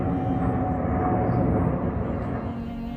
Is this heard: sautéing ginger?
no